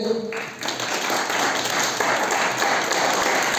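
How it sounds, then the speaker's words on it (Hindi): A crowd at a motivational business seminar breaks into loud, sustained applause after a brief lull, a dense wash of clapping that holds steady throughout. "एक बार जोरदार तालियां हो जाए भाई साहब के लिए"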